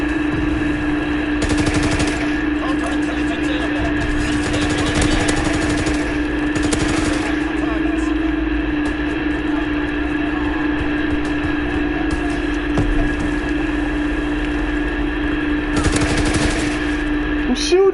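Rapid automatic gunfire from a PS4 shooter game rattles in repeated bursts over a steady droning game soundscape, loud and close, with a voice talking at times.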